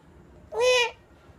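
A person voices one loud, drawn-out meow close to the mic, a clear imitation of a cat.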